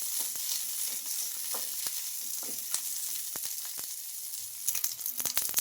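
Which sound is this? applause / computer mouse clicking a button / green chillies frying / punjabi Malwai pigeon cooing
green chillies frying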